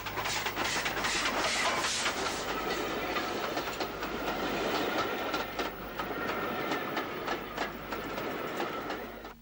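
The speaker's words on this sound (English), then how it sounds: "A Derry-bound train headed by an S-Class speeds out of the city through Adelaide." An S-Class steam train rushes past close by through Adelaide in Belfast, its wheels clattering rhythmically over rail joints amid a steady roar and hiss.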